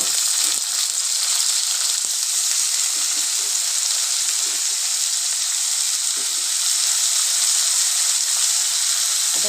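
Pieces of pigeon meat sizzle loudly in a hot pan as a dense, steady hiss that fills the whole stretch, with faint clicks and no speech.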